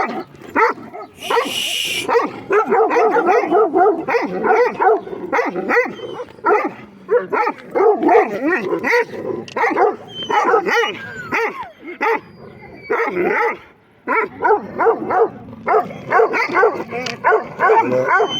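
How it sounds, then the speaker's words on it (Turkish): Several street dogs bark and yip continuously and close by, a busy overlapping chorus with a few whimpers, barely any pauses. "karşı tarafın köpekleri bu yana geldi. Sokak köpekleri."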